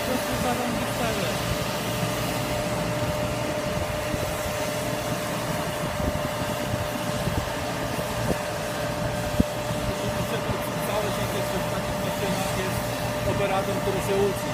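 A MUVO street sweeper machine runs on a city street in Łódź with a steady, loud mechanical whir and hum throughout, while people talk over it.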